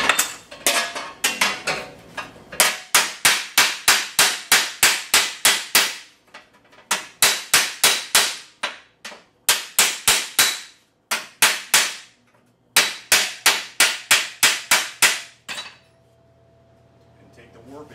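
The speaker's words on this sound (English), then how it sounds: "You lay it on a dolly and then hammer it." Sharp, ringing metallic hammer blows on a hot, freshly welded shifter part for a 1955 Chevy truck laid on a dolly, struck in rapid bursts of evenly spaced hits with short pauses, loud and close, fading to a quiet hum at the end.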